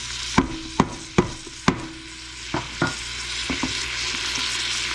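Vegetables for potato soup sauté in a pan, a steady sizzle broken by several sharp spoon taps and scrapes early on that fade into a smoother, even frying hiss.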